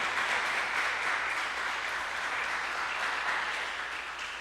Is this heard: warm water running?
no